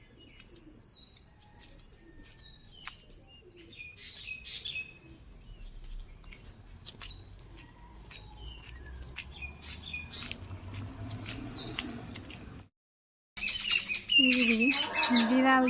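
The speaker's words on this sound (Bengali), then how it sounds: "বিড়াল দেখে পাখি কেমন করতেছে" Village birds call agitatedly at a cat, with repeated sharp chirps and squawks coming in short bursts over a quiet rural background, followed by a louder close burst at the end.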